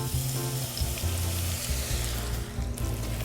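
Potato sticks dropped into oil heated to about 350 degrees, a loud, dense, steady sizzle of deep frying that fills the whole stretch, close up with no talking.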